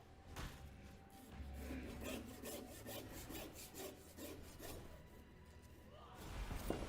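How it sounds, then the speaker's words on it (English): A handsaw cuts through a lamb shoulder in quick, rhythmic back-and-forth strokes, a rasping, grinding sound heard close but fairly quiet, with no one talking. "Then we just simply take our handsaw."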